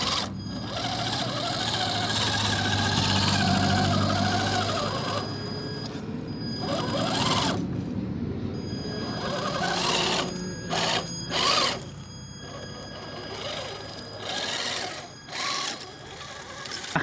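HG-P410 4WD RC truck, a Tamiya High Lift F350 clone, running in low gear with a steady whining electric motor and gear buzz that rises and cuts out in short bursts, close by.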